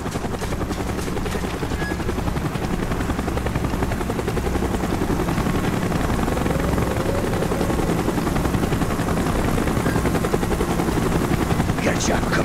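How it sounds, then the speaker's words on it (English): A helicopter in the Call of Duty Black Ops campaign drones steadily and loudly throughout, its rotor noise mixed with distant gunfire and voices talking over the din. "Chopper's inbound."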